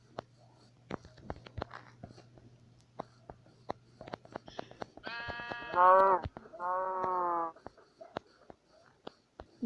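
Sheep bleat twice in a Minecraft-style survival video game, two clear, fairly loud calls near the end, following a stretch of sparse clicking and tapping with quiet whispering.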